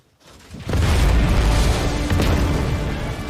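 A sudden explosion from a Dune: Part Two battle scene bursts in after a brief silence, then a loud, sustained rumbling roar fills the rest of the moment.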